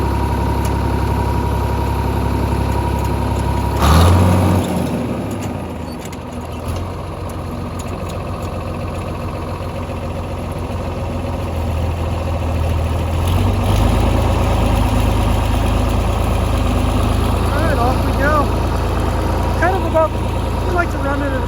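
A dirt track tiller engine rumbles steadily at a low pitch, then a loud clunk comes as it shifts and the drone deepens and keeps going, close and continuous, with a voice talking over it.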